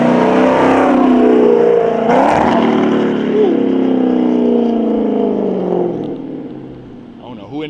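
A Scat Pack muscle car with a catless catback exhaust roars loudly and accelerates, its engine pitch sweeping through gear changes before fading away as the car pulls off.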